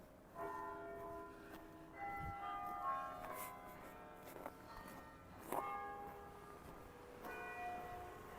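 Church bells ring downtown near First Baptist Church, with several tolls echoing between buildings, faint and distant under outdoor city ambience.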